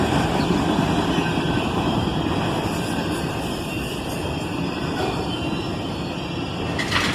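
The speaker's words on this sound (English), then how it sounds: "This was one monster freight train" Long Norfolk Southern freight train rolling past steadily and loud, a continuous heavy rumble with rail clatter and squealing wheel tones, close by and without talk.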